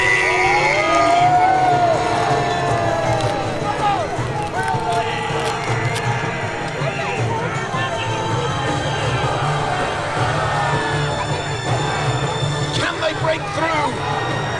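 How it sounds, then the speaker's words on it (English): A crowd at a Battle of Hastings reenactment cheers for William, Duke of Normandy, as his mounted troops charge. Broad, sustained cheering and shouting carry across an open field, with a commentator's voice audible over the noise. "Cheer now for William, Duke of"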